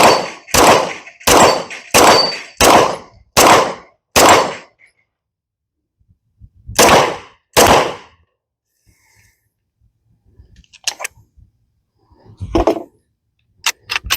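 A pistol mounted in an HGM724 Echelon chassis fires a quick string of seven sharp, loud shots, then two more after a pause, followed by faint metallic rings from steel targets.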